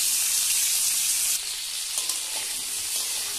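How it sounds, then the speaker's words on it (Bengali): Potatoes and bitter gourd fry in oil with cumin, giving a loud, steady, close hiss that eases slightly partway through, with no voices. "আলু ও উচ্ছেগুলোকে ভালোভাবে নেড়ে চেড়ে নিয়ে লাইট ব্রাউন কালার করে ভেজে নেব"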